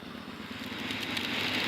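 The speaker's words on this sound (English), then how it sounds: "these are all, I believe, 106 cubic inch air-cooled engines" A motorcycle with a 106 cubic inch air-cooled engine runs on the road, giving a steady, moderately quiet engine drone with wind rush that builds slightly over a couple of seconds.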